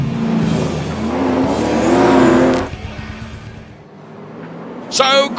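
European late model race cars rumble on the starting grid before a feature final, engines droning loudly then easing off, with a brief sharper burst at the end and talk over the noise.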